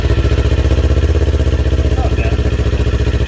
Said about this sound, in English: Here's the first startup with the DB silencer on there.